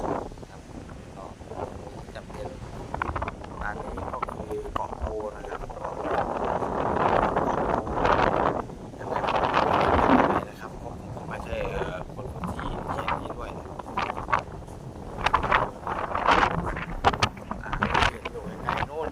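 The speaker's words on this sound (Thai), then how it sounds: "ลมแรงมากครับ ลมแรงแรงจริงๆ นี่ครับ" Strong wind gusting along a lake shore at Don Pho island on Nong Han, roaring steadily into the microphone with surges, while someone talks over it throughout.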